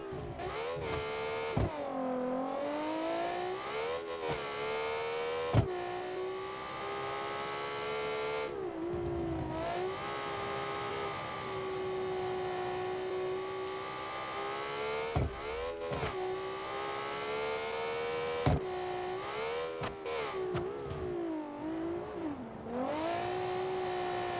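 A 2.25-liter V6 in a 2010 cross-country racing SUV roars steadily in a video game, its pitch climbing and dipping through repeated shifts and throttle lifts, loud and close with no talking.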